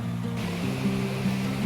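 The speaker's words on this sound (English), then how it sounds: "This is our first waterfall in New Zealand." Powerful waterfall in northern New Zealand, swollen after heavy rain, gives a continuous rushing roar of falling water, steady and close throughout.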